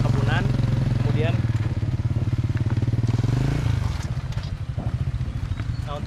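A motorcycle rides over a damaged village road through plantation country in Serbajadi, Indonesia, its engine a close steady chugging drone that bumps and drops in pitch partway, while a voice talks over it.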